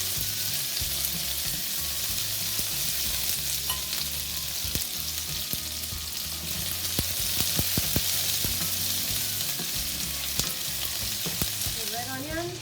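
Chicken and vegetables stir-frying in a wok, a loud continuous sizzle with repeated clanks and scrapes of a utensil against the metal, no talking.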